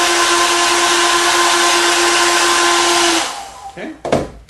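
Hair dryer blowing hot air onto freshly spread contact cement glue, a steady loud whirring hum for about three seconds before it cuts off, followed by brief handling clatter.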